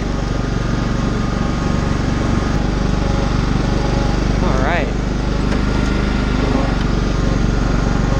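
A John Deere stick-shift lawn tractor engine runs loud and steady from start to finish, droning close by while someone talks briefly over it.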